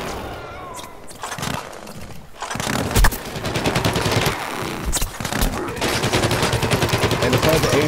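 The pea shooter weapon in Plants vs Zombies Garden Warfare on PS4 fires in rapid, continuous bursts amid dense game noise, loud and close, running through most of the stretch.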